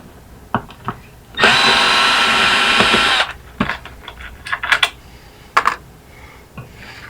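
A power drill unscrews the metal base from a bar chair, one loud whirring burst of about two seconds, followed by scattered clicks and clatter of screws and parts being handled.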